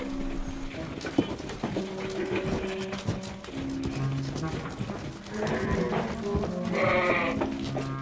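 A flock of sheep being herded through the Austrian Alps to a stable bleats repeatedly, with several overlapping calls growing louder near the end, over a steady background of hoof clatter and movement.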